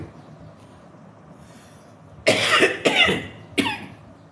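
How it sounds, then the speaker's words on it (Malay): A quiet, murmuring background gives way to three sharp coughs close by, the first two in quick succession and a third after a short pause. "Batuk pula."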